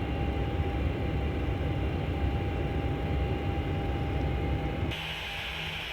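A simulated airplane turns in flight under autopilot in Microsoft Flight Simulator X, giving a continuous loud droning engine and wind roar that drops abruptly in level near the end.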